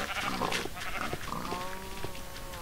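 Sheep bleating in the Farmville Extreme video game, a few wavering, drawn-out calls from livestock over a steady, busy game-sound background, with no talk.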